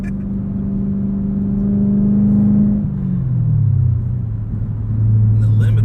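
Loud, close drone from a 2022 Chevrolet Camaro ZL1 manual coupe engine while driving, holding steady, sliding down in pitch as it eases off, then settling into a low, steady rumble.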